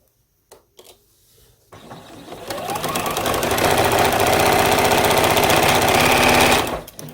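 A sewing machine runs a long basting stitch through a vintage linen pillowcase for a quilt, starting after a few light handling clicks and then whirring steadily and loudly for about five seconds before stopping.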